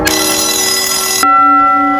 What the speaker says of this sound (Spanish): si hay una emergencia y necesitamos dar un aviso de que algo está ocurriendo y necesitamos fuera del horario sonar el timbre, pues lo pasamos para permanente